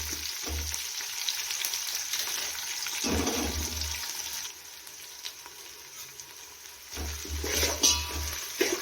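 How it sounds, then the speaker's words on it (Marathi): Chopped onion fries lightly in a pan for a mixed vegetable paneer pulao. A steady, moderate sizzle runs throughout, broken by a few low clanks and scrapes of stirring. "हलकासा कांदा फ्राय करून घेऊया"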